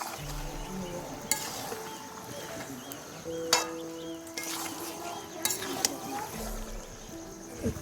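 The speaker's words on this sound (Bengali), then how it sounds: "মাংসটাকে আমি মশলার সঙ্গে খুব ভালো করে মিশিয়ে নিচ্ছি" Chicken pieces being stirred into spices in a pot over a village wood-fired clay stove, with scraping spoon clinks and scattered metallic knocks over a low continuous sizzle, close and moderately loud.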